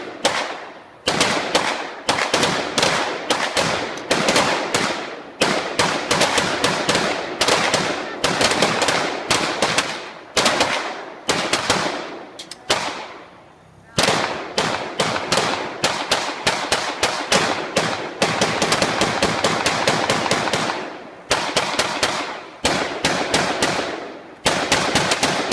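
Rapid, overlapping gunshots crack in dense volleys at a shooting range shoot-off, several guns firing at once; the loud, nearly continuous barrage pauses briefly near the middle before resuming just as intensely.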